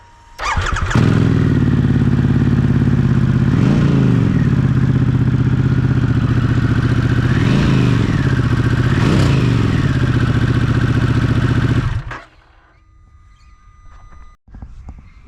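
Harley-Davidson Pan America adventure bike idling loudly with a Pizoma Racing stainless steel and carbon fiber aftermarket exhaust fitted with a dB silencer, steady close engine rumble with a few small blips, then cutting off near the end to quiet.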